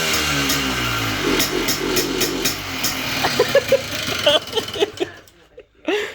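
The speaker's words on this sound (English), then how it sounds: "Yamaha Blaster exhaust sound check." A Yamaha Blaster ATV engine idles with a low, pulsing exhaust putter close by, briefly revving near the end before cutting out.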